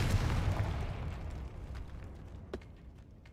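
A Confringo blasting spell explosion in Hogwarts Legacy, a low rumbling boom that fades away, followed by a brief sharp crack near the end.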